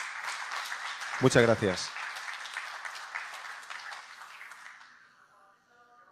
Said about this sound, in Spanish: un fuerte aplauso para Pep Alacant